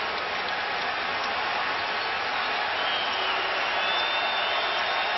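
A loud basketball arena crowd at the Heat home game during the NBA Finals, a dense continuous roar of massed voices filling the space without a break.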